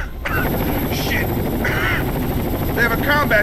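A combat helicopter in the video game Tom Clancy's Rainbow Six: Vegas 2 roars as a steady loud rotor drone throughout, with radio voices talking over it in short bursts.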